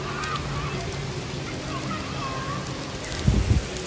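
Heavy stormy rain pours down in a dense, steady hiss that fills the whole stretch, with a couple of louder dull thumps near the end.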